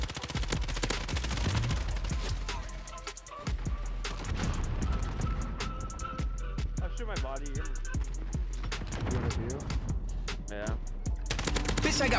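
Rapid automatic bursts from an M13 rifle in Modern Warfare crackle in repeated volleys with short gaps, mixed with game effects and a voice talking over the firing.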